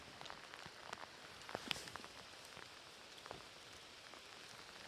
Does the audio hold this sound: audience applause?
no